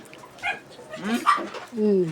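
A dog whimpers, yips and gives short bow-wow barks during a family outing on Good Friday, close and fairly loud, with a longer whine at the end.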